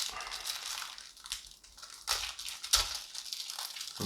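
Plastic packaging of a Pokémon battle deck is crinkled and torn open, giving soft, irregular crackling bursts with a few sharper crunches, fairly quiet and close, with no talking.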